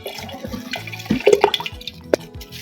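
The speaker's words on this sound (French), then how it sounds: "À cette étape, nous allons mélanger notre jus de tomate et notre eau" Tomato juice poured into caustic potash water while making soft soap: a short, close liquid splash and gurgle lasting a couple of seconds, with a brief louder surge midway and a final splash.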